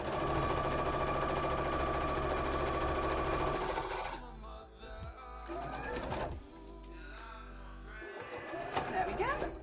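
A sewing machine stitching a cosplay dress runs in a fast, steady motor whir for several seconds, then stops as a person talks, with brief bursts of stitching between the words.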